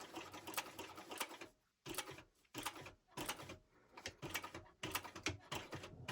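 Sewing machine stitching fabric for a shoulder bag, running in several short close bursts separated by brief pauses, loud and mechanical with no talking.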